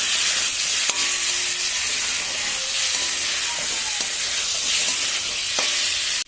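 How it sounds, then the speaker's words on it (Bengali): Duck egg and potato curry with meat masala being sautéed in a pan, a continuous loud sizzle and hiss with occasional scrapes and clinks of a spoon stirring. "আবার আমি ভালো করে কষিয়ে নেব"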